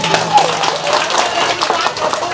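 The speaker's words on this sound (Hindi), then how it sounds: "थोड़ा ताली बजा दीजिए" A seated audience at a religious discourse gathering breaks into a short burst of clapping, an uneven scatter of hand claps mixed with voices talking nearby.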